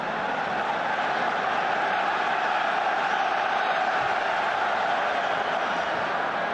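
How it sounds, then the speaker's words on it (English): A football stadium crowd at the Croatia vs Netherlands match keeps up a steady, dense roar of cheering, loud and continuous with no breaks. "Crowd starting to get behind their team"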